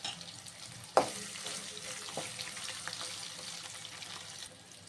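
Chopped onions dropped into hot oil in a pan with green chillies for upma: a sharp hiss on contact, then steady close frying sizzle with occasional stirring taps, no speech.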